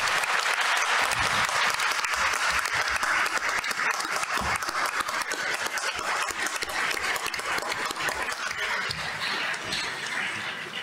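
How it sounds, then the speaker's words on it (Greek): A crowd at a public event gives long, loud applause, dense clapping that keeps up steadily for about ten seconds with no break. "Θα ήθελα ένα μεγάλο χειροκρότημα για τα παιδιά όλα αυτά."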